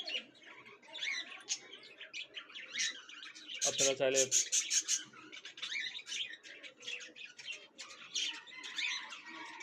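Many caged birds at a bird and animal market in Mirpur, Dhaka chirp and tweet continuously close by, with a dense burst of sharp repeated calls midway, while someone speaks briefly over them.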